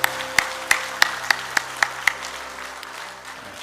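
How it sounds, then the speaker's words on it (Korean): A short burst of applause during a church service, with distinct hand claps in a steady rhythm, fading out after a couple of seconds in a reverberant room. "우리 하나님께 영광의 박수 하겠습니다."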